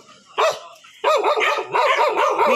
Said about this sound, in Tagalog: Sinalubong ako ng mga aso.